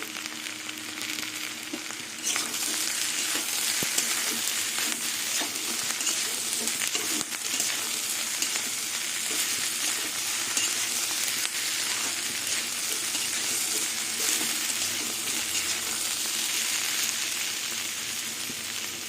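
Continuous close sizzle of potatoes and ivy gourd frying in a pan, a steady hiss with faint crackles that holds for the whole stretch, no voices.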